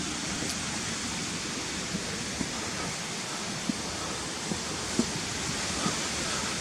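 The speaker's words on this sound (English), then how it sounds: "There's a channel of water coming through two brick walls, it comes underneath the road and then starts dropping down to where the waterfalls are." At Harmby, a channel of water drops down a small waterfall, producing a steady, dense rushing roar with no breaks, heard fairly close.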